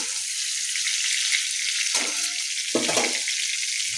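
Four or five garlic cloves fry in a pan with a steady, close hiss and sizzle, broken by two brief clattering stirs.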